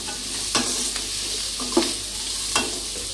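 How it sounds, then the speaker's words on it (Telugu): Carrots frying lightly in a pan for street-style veg noodles, a constant sizzle broken by a few sharp spatula scrapes and clanks, close and fairly loud with no voices. "నెక్స్ట్ క్యారెట్ కూడా కొంచెం లైట్గా ఫ్రై అవ్వనివ్వాలి."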